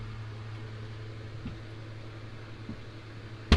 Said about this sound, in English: You probably hear that fan if it's messing with the audio.